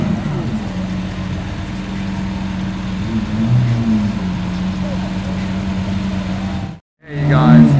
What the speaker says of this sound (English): Gintani SVJ straight pipe.